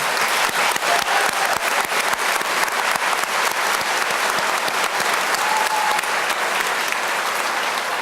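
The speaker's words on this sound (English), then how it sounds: "would you please join me in giving our college family a round applause" Sustained applause from a large crowd at an evening GED graduation ceremony, dense steady clapping that continues without pause from start to finish.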